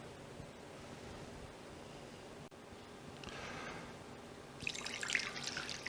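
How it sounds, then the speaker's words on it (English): Water pours into a mixing bowl for homemade pizza dough, a hissing splash that builds after a quiet start and grows louder and brighter near the end. "So we put our water in the mixing bowl."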